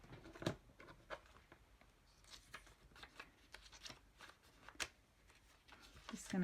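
Junk mail paper being lined up and creased with a bone folder on a scoring board, giving soft papery rustles, slides and a few sharper taps at close range, with no talking.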